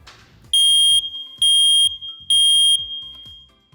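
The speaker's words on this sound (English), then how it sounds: "I'm going to show you what our smoke detector sounds like" A household smoke detector being tested blares three loud, piercing high-pitched beeps of equal length in an even pulsing rhythm, very close, with faint room noise between the blasts.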